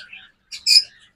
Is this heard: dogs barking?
no